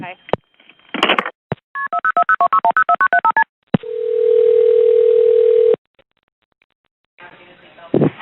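A cell phone dials 911: a quick run of short keypad tones in a rhythmic sequence, then a long steady tone, followed by silence and a brief burst of line noise, loud and close.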